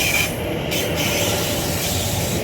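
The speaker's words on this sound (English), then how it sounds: "That was a new train, by the way," A new Elizabeth line train passes near Hounslow Heath in West London, a continuous broad rushing rumble with a brief high squeal of wheels on rails at the start, close and loud, no voices.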